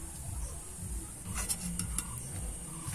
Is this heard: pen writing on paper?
no